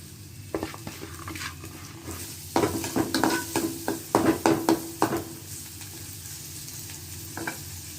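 Sambar onions sautéing in hot oil for a goat spleen dish, a steady sizzle with a burst of louder crackling and spatula scrapes in the middle before settling back to a gentle hiss.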